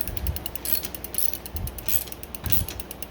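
A tool works on a Diamondback bicycle component with rhythmic ratcheting clicks and low thumps, repeating every half second or so at close range.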